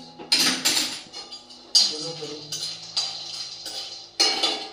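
Fox nuts (makhana) roasting in a kadhai give bursts of dry rattling, clinking and scraping as they are stirred and tossed, with quieter gaps between strokes.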